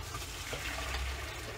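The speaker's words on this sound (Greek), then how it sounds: "Και έτσι όπως είναι, σουρώνω τα ζυμαρικά μου." Water from boiled pasta draining as it is strained in a kitchen, a brief, faint, steady rushing pour.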